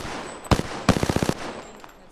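Apex Legends gunfire: a single sharp shot, then a rapid burst of about eight automatic rounds in quick rhythm, loud and close over a low game background.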